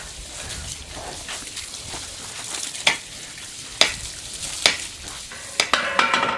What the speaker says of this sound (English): What we're doing is we're driving the digging bars into the soil